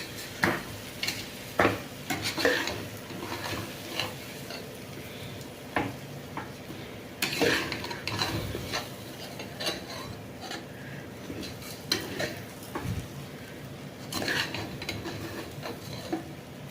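Broken wheat being stirred into vegetables and masala in a pan, with repeated scraping and clinking of a spoon against metal at irregular intervals over a faint background sizzle, with no talking.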